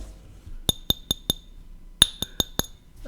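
A metal lens cap for a Brightin Star 9 mm f5.6 full-frame lens clinks in two quick bursts of four sharp, bright taps each, close and clear with nothing else heard.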